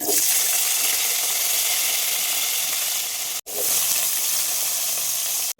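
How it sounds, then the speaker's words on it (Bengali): Cauliflower frying in hot oil gives a steady, loud sizzle with a watery hiss, cut by a brief silence partway through and another just before the end. "আমি একই তেলে কিন্তু ফুলকপিটাকেও ভেজে নেব"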